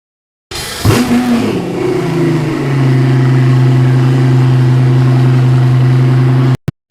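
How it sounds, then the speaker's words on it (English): A 2025 Pagani Utopia Roadster engine barks to life with a sharp rev, then holds a loud, steady, droning high rev for several seconds before cutting off abruptly. "I want to tell you about the sound that the car made."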